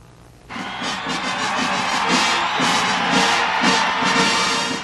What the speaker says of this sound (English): Thousands upon thousands of supporters jammed into Andrews Air Force Base outside Washington to give him a red carpet hero's welcome.